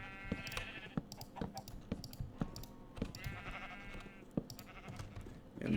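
Sheep bleat repeatedly in the Minecraft video game, a few drawn-out cries among scattered clicks and small in-game sounds.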